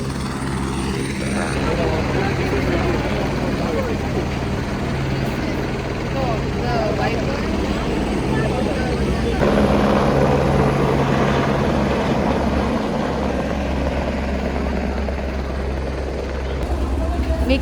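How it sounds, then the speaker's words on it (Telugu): A small ATS passenger plane engine at Simikot airport makes a steady, loud propeller and engine roar that continues without a break. "ఇప్పుడు మళ్ళీ మినీ ఫ్లైట్ ఏటీఎస్ ఎక్కుతాము."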